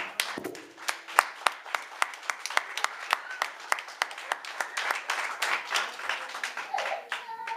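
Church congregation applauding together, a steady run of sharp overlapping claps carrying on for several seconds, fairly close and moderately loud.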